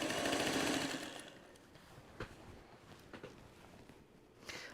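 A sewing machine stitching down quilt binding runs with a steady buzzing hum for about a second, then stops, leaving quiet handling taps and faint rustles.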